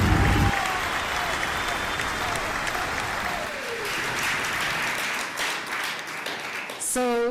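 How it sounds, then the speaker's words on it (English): Steady applause from an awards ceremony audience, loud and sustained for several seconds, with a brief voice or sound at the very end. "we urge everyone in the audience to give you a huge round of applause"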